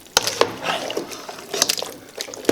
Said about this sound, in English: it's going to be a little bit of a project to get these completely stirred in.